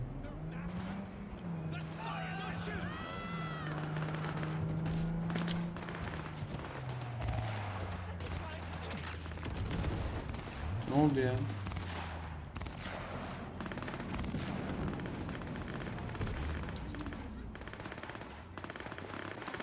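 Bursts of gunfire and rattling machine-gun fire in the video game Cyberpunk 2077, continuing steadily under someone talking loudly, with engine-like hums in the mix.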